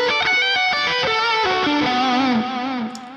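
Heavily distorted electric guitar with effects plays a descending arpeggio that adds the 11th, notes picked in quick succession then sliding down and fading at the end, loud with no voice over it.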